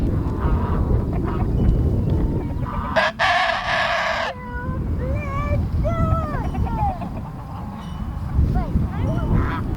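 Chickens cluck continuously nearby on a family homestead while a rooster crows loudly once, followed by scattered squawks and bird calls, with a person talking faintly underneath.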